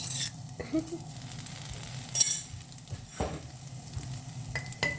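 Hot oil sizzles steadily in a wok while a utensil stirs and scrapes, with occasional metallic clinks and a voice nearby.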